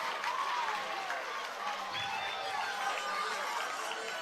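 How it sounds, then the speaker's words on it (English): A high school football crowd cheers after an interception, a steady, distant wash of roaring voices and applause with a commentator speaking over it. "That makes the Indian crowd happy."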